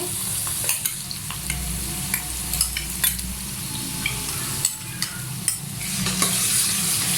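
Ginger garlic paste sizzles and fries in a pan with softened onions while a utensil stirs and scrapes with soft, irregular taps, a continuous crackling hiss with no talking.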